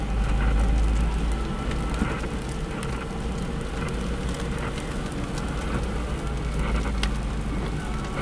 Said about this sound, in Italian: E poi ricominciano a piovere delle gocce molto grosse